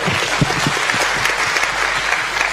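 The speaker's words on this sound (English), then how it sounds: "a big round of applause to the DFCU team" A big round of applause for a team at a cash competition grand finale, dense and loud crowd clapping sustained throughout with no talk over it.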